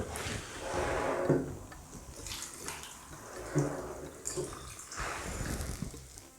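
Water pours in an uneven, splashing stream into a measuring container while brine is prepared for fermented vegetable pickles, swelling and easing in several surges at close range.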